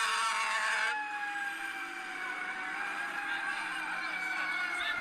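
Fire truck siren sweeping in a long descending wail amid a noisy Chicago street crowd, fairly close and sustained, with general street din underneath.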